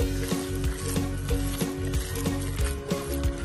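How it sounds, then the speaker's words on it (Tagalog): A hamburger patty fries in a pan with a steady, close sizzle, punctuated by regular soft taps and clinks about every half second, with no talking. "pwede na pong iprito"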